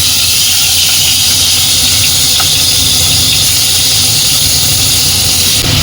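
Prawns frying in hot oil with ground onion, ginger, garlic and green chillies, a loud, steady sizzling hiss and crackle filling the whole clip, close and continuous with no talking.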